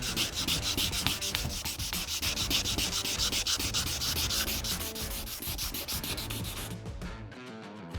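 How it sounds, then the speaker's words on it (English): Rapid back-and-forth wet sanding strokes with sandpaper on a Toyota 4Runner's scratched paint, a rhythmic wet rasp repeating steadily up close, stopping near the end. "We're going to continue now with the normal wet sanding."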